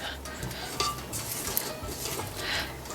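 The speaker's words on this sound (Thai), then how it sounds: "ปิดเครื่องปาดอ่างนะคะ" Spatula scraping the sides of a stand-mixer bowl of chocolate butter cake batter made with slightly cool butter, with soft, continuous scuffing and a few light clinks against the bowl, close and moderately quiet.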